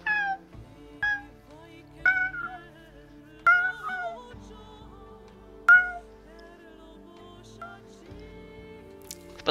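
Cats meow repeatedly, five or six sharp cries spaced a second or two apart over a steady background hum, close and fairly loud.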